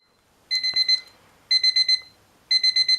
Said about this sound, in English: So I set my alarm for 6 AM and I turned it off literally straight away because it was so loud